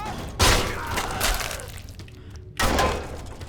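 Katana slicing through a ragdoll in the People Playground video game, heard as two sharp, loud crashing impacts about two seconds apart, each with a bright breaking crunch that trails off, and no talk.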